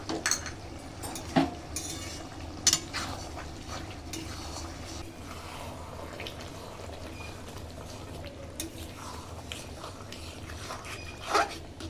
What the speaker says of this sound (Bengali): দিয়ে দিচ্ছি মিট মশলা আবারও খুব ভালো করে নেড়ে দেবো